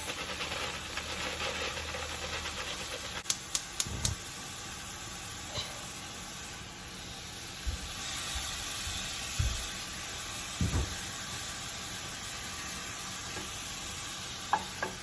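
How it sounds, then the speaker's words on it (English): Cauliflower rice sizzles and hisses steadily in a hot pan as a beef and broccoli keto rice bowl comes together, with occasional stirring scrapes and clinks from a utensil breaking up the low, even frying. "So now I'm going to add to this, I'm going to add my cauliflower rice."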